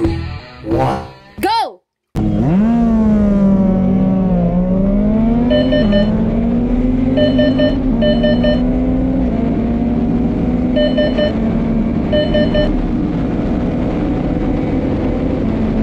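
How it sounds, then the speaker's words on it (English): A Ford Mustang GT accelerates hard from a standstill toward 200 km/h, its engine note climbing steadily through the gears with brief shift dips, loud and close; a short burst of voice precedes it. "Mustang GT"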